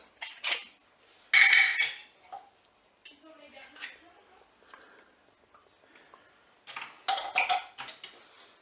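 A spoon scrapes and clinks in a cooking pot as tomato paste is stirred into a sauce for pork chops in a Cookeo cooker, with intermittent close metallic taps and scrapes separated by quiet pauses.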